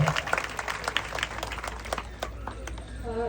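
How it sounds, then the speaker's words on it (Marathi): An audience at a Makar Sankranti women's gathering claps loudly, a dense burst of applause that thins out toward the end, with some talk mixed in. "जोरदार टाळ्या"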